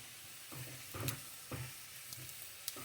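A red potato flipped in a hot pan sizzles quietly, with soft frying crackle and a few gentle knocks and scrapes as it turns.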